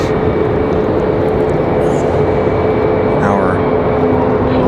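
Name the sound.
FedEx Boeing 767 jet aircraft from Memphis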